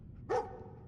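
A dog in the Fallout 4 video game gives a single short bark, faint and somewhat distant, against quiet background.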